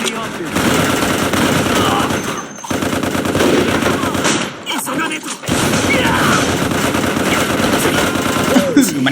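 Gunfire in the video game MicroVolts: Recharged: loud, rapid automatic bursts rattle continuously, broken by two short pauses, with voices faintly mixed in.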